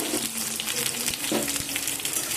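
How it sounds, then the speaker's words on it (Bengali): Sliced onion and two green chilies with black cumin seeds fry in mustard oil, a dense, close sizzle with faint low clinks underneath, continuous for a couple of seconds without speech. "সবগুলোকে ভালো করে একটু ভাজা ভাজা করে নেব।"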